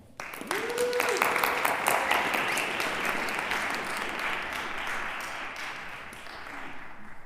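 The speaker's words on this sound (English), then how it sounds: "please put a warm front range applause together for our first act of the evening, Leland Flolo" Warm audience applause at a junior recital greets the evening's first act, a dense wash of many hands clapping that swells quickly and holds steady, with a brief voice early on.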